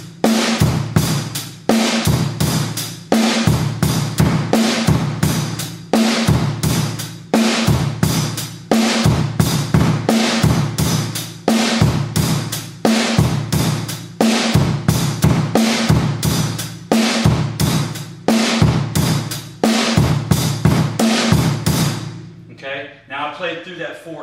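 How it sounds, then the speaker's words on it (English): A basic two-measure bass drum pattern repeated four times, steady loud thumping kicks in a regular rhythm with accompanying hits, ending in a short ringing decay. "bass drum pattern on line number 1 should sound like this."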